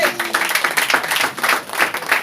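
Congregation clapping during a church service, a steady bright patter of many hands with rhythmic pulses, fairly close and loud, with no talking over it.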